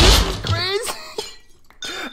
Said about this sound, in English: I'm smashing it against the wall.